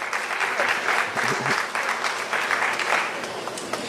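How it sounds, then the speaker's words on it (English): Sustained audience applause, many hands clapping steadily at moderate volume, with faint voices mixed in beneath. "Men, you can clap too, you know."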